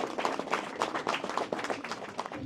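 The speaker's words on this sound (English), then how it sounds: "a big round of applause to all of you" An audience at a 77th Republic Day celebration in Norway gives sustained applause, a steady crackle of many hands clapping together, fairly close, with no speech over it.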